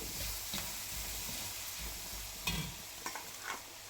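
Palm fruit (ice apple) peels frying and being stirred in a pan, a steady close sizzle with scraping stirs and a few sharper clinks of the spatula, no talking.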